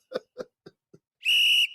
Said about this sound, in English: No, folks, it's not the fans blowing the whistle. It's the ref, the guys in the black and white.